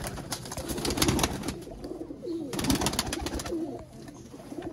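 Sialkoti pigeons coo in soft repeated calls close by, the low murmurs rising and falling among rustling and fluttering, with no speech.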